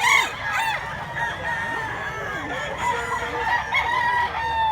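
Several chickens and roosters crow and cluck close by on a rural farm in Mantalungon, Cebu, with overlapping calls continuing throughout and no talking.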